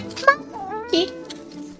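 Two short cat meows from a Roblox Grow a Garden game, a brief high-pitched cry followed by a lower one about half a second apart, mixed in with faint background talk.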